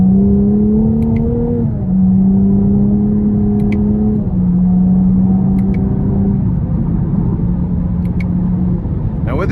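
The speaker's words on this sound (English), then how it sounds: "I'm gonna give it just a little bit of throttle" 2024 Chevrolet Camaro 2LT RS with a 3.6 V6 pulling under light throttle in manual mode, a loud steady engine and exhaust drone that climbs through several gears with distinct upshift steps and faint clicks.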